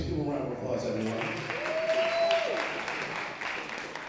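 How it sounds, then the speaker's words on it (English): An audience applauds at a New York Fashion Week event after an opening prayer, a steady wash of clapping with voices and cheering mixed in throughout. "Give him a round of applause, everyone."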